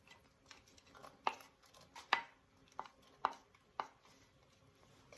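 A knife chopping a leafy vegetable, leaves still on, for homemade chicken noodle soup: five or six distinct cuts hitting the board at uneven intervals, close but soft, over a quiet kitchen background.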